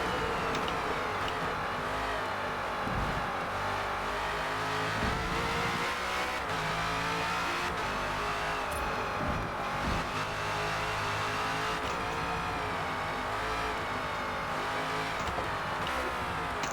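Engine of a #17 Ford Falcon FG X race car in Forza Motorsport at Yas Marina, roaring loud and continuous as it accelerates and revs through gears, with brief tyre squeals and no voices over it.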